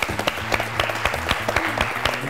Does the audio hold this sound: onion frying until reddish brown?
no